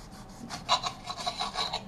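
Knife sawing open a Trinidad Douglah chili pepper: a close series of quick, rhythmic rasping strokes, moderately loud, with no talking.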